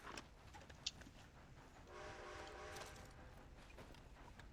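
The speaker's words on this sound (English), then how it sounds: "That's the train coming into the station." A train pulls into a station in the video game Red Dead, faint rumbling and clacking with a brief whistle-like tone partway through, heard quietly without speech.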